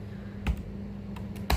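A few separate keystrokes on a computer keyboard while a database command is typed: a single clack, a pause, then a couple of lighter taps and a final firmer one, close over a quiet low hum, no voices.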